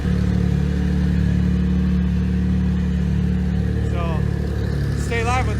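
A twin-turbo Honda Civic makes its first run, a steady loud engine drone with strong low harmonics throughout, near and continuous, while someone talks over it and brief chirpy tones appear near the end.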